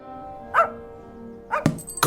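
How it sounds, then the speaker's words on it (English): A dog barks twice in short, sharp yaps spaced about a second apart, near and moderately loud, with a faint steady hum beneath and brief clicks after, no talking. "He's a clever dog."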